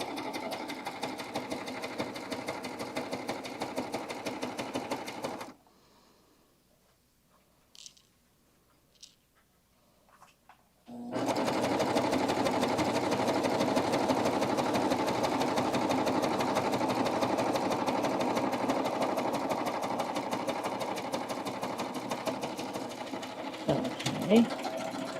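A sewing machine runs steadily while stitching fabric piping for a curved pillow edge, with a long continuous whir, a pause of several seconds with faint sounds, then another long sustained run, up close.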